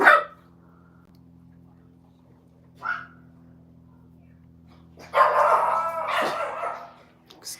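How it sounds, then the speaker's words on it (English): Pet dogs bark indoors in a few sharp bursts: one yelp at the start, a short bark near three seconds, then a longer run of barking and yipping toward the end, with quiet gaps between. "Excuse my dogs."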